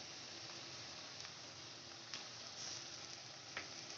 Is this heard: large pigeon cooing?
no